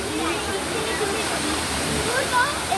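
Düden Waterfall in Turkey flowing, a steady broadband roar of falling water filling the scene without pause, near and constant.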